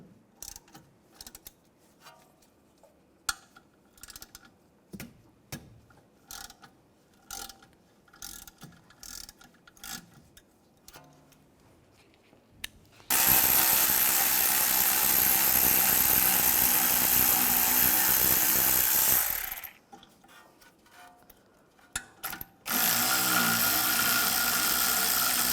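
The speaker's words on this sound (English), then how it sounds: "Now I'm going to use a 7mm hex socket. Take these bolts out." Socket wrench with a 7mm hex socket ratcheting out the front brake caliper slide bolts on a 2004–2010 BMW X3, a run of sharp clicking ratchet bursts up close, then a long, loud, steady whirring stretch and a second later burst.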